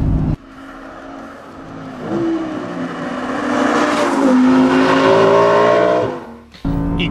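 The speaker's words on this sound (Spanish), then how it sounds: "cuando tienes la dirección recta y aceleras a fondo, el empuje del motor" A 2023 Audi R8 Performance with a seven-speed dual-clutch automatic accelerating at full throttle, the engine note climbing loudly through the revs and peaking before cutting off abruptly near the end.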